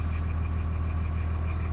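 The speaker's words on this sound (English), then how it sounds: "just doing a little video to see how loud it is with the engine running before we insulate it" Uninsulated school bus converted into a skoolie, its engine idling with a steady low-pitched hum and a constant rumble heard from inside the cabin, with no talking.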